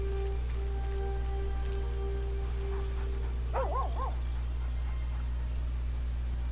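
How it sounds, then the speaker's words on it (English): A dog in the video game Baldur's Gate 3 gives a brief, wavering whimpering yelp partway through, set over a steady low game hum and faint ambient tones. "The dog's here."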